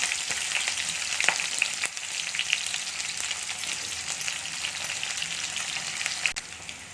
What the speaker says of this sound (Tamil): வெங்காயம் நல்லா வதக்கிட்டு இருக்கு.